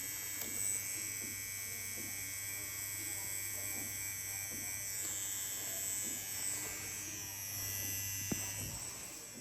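A tattoo machine buzzes steadily and close up while an artist tattoos skin, a constant electric hum with faint background sounds and no talking.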